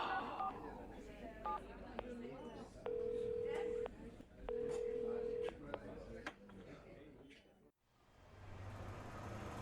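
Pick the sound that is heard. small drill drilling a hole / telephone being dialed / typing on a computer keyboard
telephone being dialed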